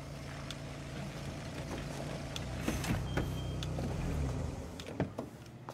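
A 650 motocross bike's engine idles and putters steadily nearby, low and continuous, with occasional clicks and revs rising toward the end.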